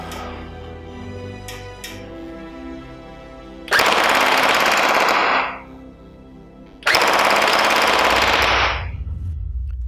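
SKD M4SS gel ball blaster running on an 11 volt battery fires two loud, rapid full-auto bursts of about two seconds each, close by, with a brief motor whir beforehand.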